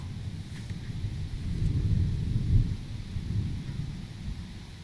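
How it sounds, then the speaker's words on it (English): Low, rolling thunder from an approaching summer thunderstorm on an early July morning, a deep rumble swelling and fading over a few seconds at moderate distance, with faint wind and no voices. "I'm sure the thunder is getting nearer"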